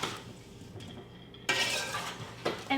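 Sweet and sour sauce with brown sugar being stirred in a dish: a spoon clinks and scrapes against the container in a few short bursts, fairly close, with brief quiet gaps between.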